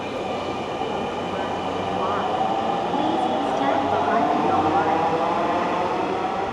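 A Dhaka metro rail train rumbles steadily into Shewrapara station, a continuous droning roar with a faint rising whine of wheels, heard from inside with people talking nearby.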